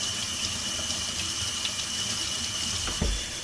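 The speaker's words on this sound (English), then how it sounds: "I get my filter water." Filtered water pours steadily from a water filter into a container, a continuous rushing hiss heard up close, with a brief thump near the end.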